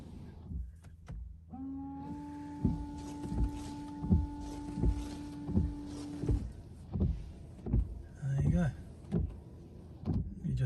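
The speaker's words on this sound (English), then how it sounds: "So we're going to just test the wipers." Windscreen wipers on an Audi TT MK3 sweep across the glass with the ignition on, giving a steady, repeating rhythm of swishes and soft thumps near the microphone, first under a whining electric tone and then carrying on alone.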